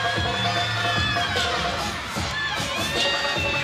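Crowd cheering during a gymnastics floor routine at a college meet, loud mixed shouts and high-pitched yells from many voices with a brief dip midway.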